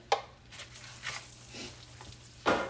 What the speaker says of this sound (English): I'm just going to kind of fry that rice until it browns a little